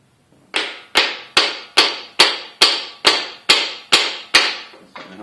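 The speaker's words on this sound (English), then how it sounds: "use the backside of a hammer if it's got a wooden handle to help you knock them loose" A hammer knocks stubborn parts loose during a 5.7 Vortec 350 engine rebuild: about ten sharp, evenly spaced strikes, close and loud, each ringing briefly before the next, with no talk.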